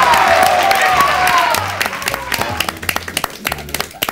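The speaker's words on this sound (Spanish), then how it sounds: "un aplauso para ustedes que son fantásticos" A voice speaks briefly in Spanish, then a television show audience breaks into applause, scattered claps that grow sharper and more distinct toward the end.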